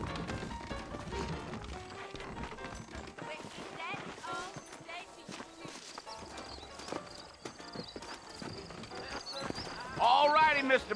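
Horse hooves clop at a steady running pace in the western game Red Dead Redemption, blended with game music and voices, growing louder near the end.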